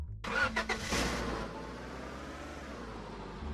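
A car engine in the Roblox game Lumber Tycoon 2 cranks and catches, with a few loud bursts of revving before it settles into a steady, close idle hum, with no talking.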